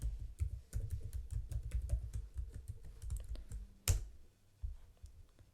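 Fingers type on a computer keyboard while logging into a Linux virtual machine, a quick close run of clicking keystrokes that slows into a few scattered taps, ending with one sharp louder click.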